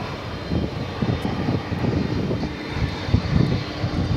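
Aircraft engine noise at DFW Airport, a steady broadband roar from a plane heard from Founders Plaza, continuous and moderately loud throughout with slight swells, no talk.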